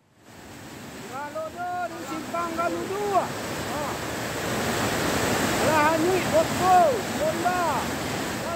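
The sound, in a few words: volcanic lahar mudflow flood from Mount Marapi rushing through village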